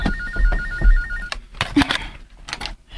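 A cellphone ringtone chirps in a repeating electronic pattern for about a second and a half, then gives way to muffled movement and scattered noises in a domestic drama scene.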